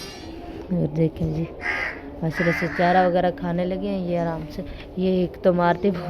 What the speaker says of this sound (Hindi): तो कौवा जी बोल रहा है कौन मेहमान आ रहे हैं आज